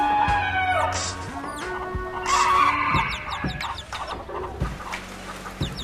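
Caged hens, packed about 22 to the square metre, cry out in distress, their clucks and squawks overlapping loudly and continuously from close by.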